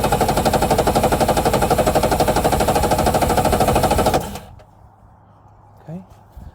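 A Yamaha XL1200 jet ski engine, running on reserve fuel, cranks over in a loud, fast, steady rhythmic chugging for about four seconds, then stops and leaves near silence with one brief soft knock.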